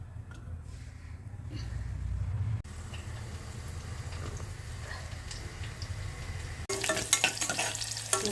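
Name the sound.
onion sautéing in a pan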